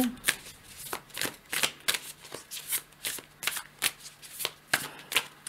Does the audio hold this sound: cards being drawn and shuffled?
yes